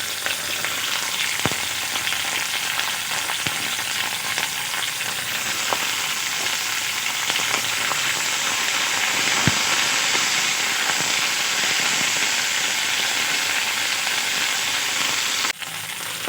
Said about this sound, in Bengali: ভেন্ডিগুলো ভেজে নেব।